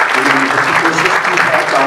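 Congregation applauding at a Sunday Urdu sermon in church, a steady dense wash of clapping from a full room with a low murmur of voices mixed in throughout.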